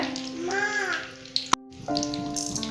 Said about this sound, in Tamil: கடுகு நல்லா பொரிஞ்சு வரட்டும்